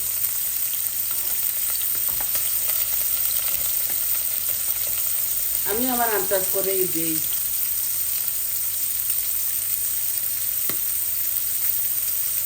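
Garlic cloves frying in plenty of oil for a hilsa fish curry, a steady soft sizzle running throughout, with a brief spoken remark partway through.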